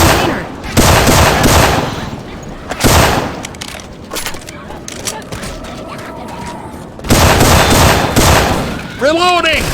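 Syphon Filter weapon sound effects in the video game Left 4 Dead 2: loud bursts of rapid gunfire in several sustained volleys, with short quieter gaps between them.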